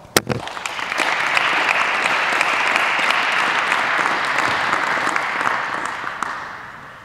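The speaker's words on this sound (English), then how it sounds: "An applause for Carl." An audience at a coaching talk bursts into applause for the speaker Carl after a sharp opening thump, clapping loud and sustained for several seconds before fading out at the end.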